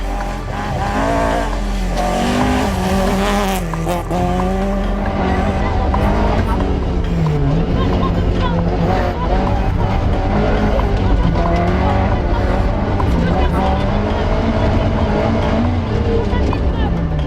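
A new Opel Manta 400 rally car races past, its engine loud and close as it revs hard through the gears over tire noise, with a commentator talking throughout.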